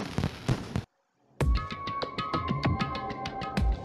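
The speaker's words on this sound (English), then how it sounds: "Looks like they're fireworks." Fireworks burst in the video game Danganronpa 2. A few sharp pops are followed by a brief silence, then a fast, regular series of bright bangs over a tonal game-music backdrop.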